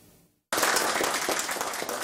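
Hospital staff greet a new health minister with a burst of applause that starts abruptly after brief quiet and continues as dense, steady clapping close by.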